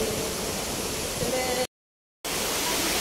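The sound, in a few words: water fountain in an Abu Dhabi park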